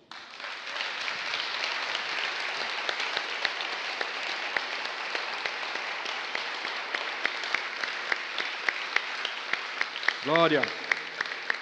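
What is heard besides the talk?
congregation applauding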